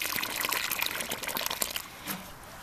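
Water poured from close by over the cut part of a divided phlox root clump, a gentle trickling splash that is loud at first and then tails off.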